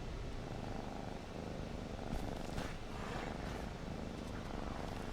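A Cat Warrior card in the video game Magic the Gathering Arena gives off a soft, steady, rumbling purr that runs continuously and quietly throughout, with no talking over it.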